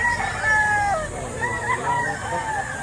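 A rooster crows amid the bustle of a Filipino poultry market, its long harmonic calls rising and falling over steady crowd murmur and other fowl nearby.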